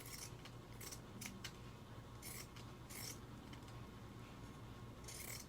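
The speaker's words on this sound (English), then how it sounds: "So just trim your edges some." Scissors trim the fabric edges of a sewn scrunchie tube, a series of faint, close snips and crisp cuts in irregular bursts over a quiet background hum.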